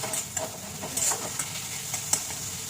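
Ground spice paste with turmeric and salt frying in a pan as it is stirred, a soft steady sizzle with small scraping taps, faint and close, no voices.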